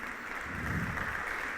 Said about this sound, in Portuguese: Você pode dar uma salva de palmas ao Senhor nessa noite?